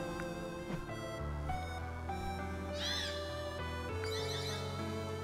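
Birds calling in the Cursed to Golf video game, a few chirping, swooping cries over a busy background of game music, brief and moderately loud.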